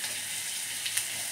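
Chopped onion and green chillies sizzling in hot oil in a pan, after black gram dal has been added, for a banana stem stir fry; a steady, bright frying hiss throughout with a few sharper crackles, no voices.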